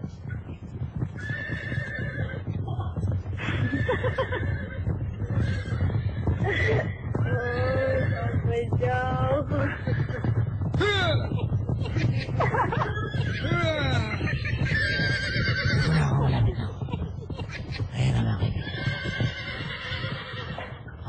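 A horse neighs and whinnies repeatedly, loud and close, with clip-clop hooves beneath, while people talk over it throughout.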